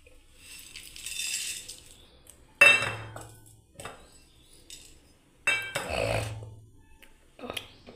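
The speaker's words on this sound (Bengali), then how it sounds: "তাই প্রথমে বন্ধুরা দেখুন আমি এটাকে ভেজে নিচ্ছি প্রথমে কাঠখোলায়।" Coriander, cumin, cardamom and dried chilli dry-roasting in a pan over a low gas flame, heard as scattered clinks and scraping rattles in separate bursts with quiet gaps between them.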